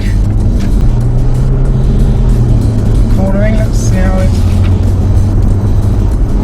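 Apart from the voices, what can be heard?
BMW car driving on the M1 motorway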